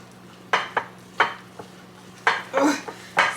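A whisk clatters against a bowl while dough ingredients are mixed, giving several sharp, close metallic knocks and scrapes in uneven bursts.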